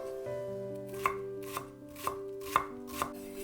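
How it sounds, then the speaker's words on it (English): A knife mincing a shallot on a cutting board: five crisp chops land about half a second apart over a steady bed of background music, with no voices. "Mince a shallot."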